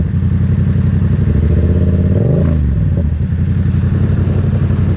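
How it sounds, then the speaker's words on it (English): A Yamaha FZ-07 motorcycle engine runs loud and close throughout, rising in a brief rev midway before settling back to a steady rumble as it rides, with no talking. "How do you like getting to hear your own bike?"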